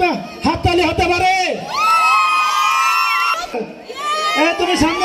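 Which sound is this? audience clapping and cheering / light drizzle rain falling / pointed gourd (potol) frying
audience clapping and cheering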